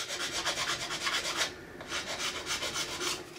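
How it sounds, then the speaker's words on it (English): A flat file rasping along the edge of an ABS plastic part, close rhythmic back-and-forth strokes in quick succession with a brief pause midway, then the steady filing resumes. "So just take a flat file, yeah, and just go around."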